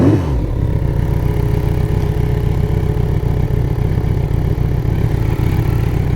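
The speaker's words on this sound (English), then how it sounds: "See, the engine runs smooth," A rare vintage Yamaha motorcycle engine idles close by with a loud, steady, low throbbing hum and a fast, even pulse that stays level throughout.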